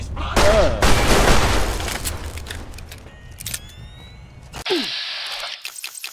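Gunfire in Fallout: New Vegas comes as a loud close burst of shots at the start, followed by scattered quieter impacts and game effects, with a voice speaking over part of it.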